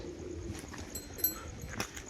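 Soft pigeon cooing drifts through a quiet room, with a faint flutter near the end and light background noise.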